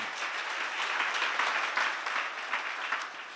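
Seminar attendees clap in a continuous wash of applause at moderate volume, with scattered individual claps standing out throughout.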